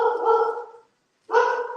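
A pet dog barking in a home kitchen: two drawn-out bursts of barking separated by a short pause, fairly close and alone.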